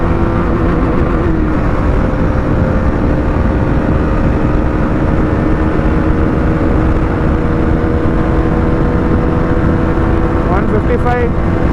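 Husqvarna Vitpilen 250 motorcycle engine held at high speed in fourth gear on a track, a loud steady drone with strong wind rush and no clear pauses, a slight pitch rise near the end.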